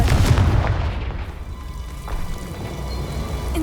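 A Confringo spell explosion in the video game Hogwarts Legacy gives a loud, booming blast at the start, followed by a crackling, debris-like decay that fades into a steady background rumble.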